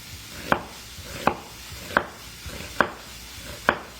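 A Rada chef's knife chops through an onion on a board, five crisp, evenly spaced thunks in a steady rhythm, close and clear with no talking.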